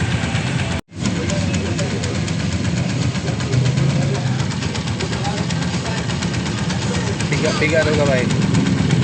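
A Honda TMX Alpha motorcycle with an oil leak idles steadily nearby, a continuous low engine rumble with a brief dropout near the start, while people talk over it.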